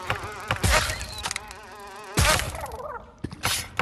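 An insect-like buzz from a bee in a dungeon video game, flitting in short bursts over busy game sound effects and background music.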